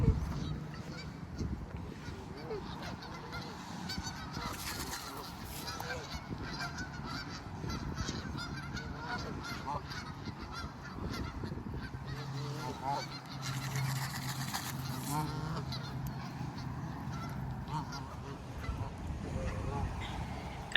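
Many geese honk in a continuous, crowded chorus while being fed, with overlapping calls throughout and a raucous flock close by.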